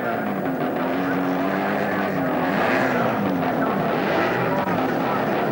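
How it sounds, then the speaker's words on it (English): A big Chevrolet V8-powered Alfa Romeo sports sedan races at Wanneroo circuit in Western Australia, its engine a continuous loud roar with shifting pitch, while a commentator talks over it. "Big Chev-powered Alfa Romeo, built here in Western Australia."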